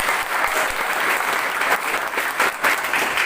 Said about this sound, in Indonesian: Tepuk tangan dulu buat Pak Kajot